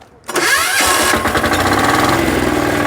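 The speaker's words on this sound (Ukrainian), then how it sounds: "як працює дизельочок Вейма" A WEIMA diesel walk-behind tractor engine cranks and catches after a short quiet moment, then settles into a loud, steady, close-up running chug with a rapid even beat.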